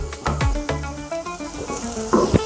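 Shallots browning in a hot pan crackle and sizzle up close, punctuated by a few sharp utensil knocks and scrapes against the pan.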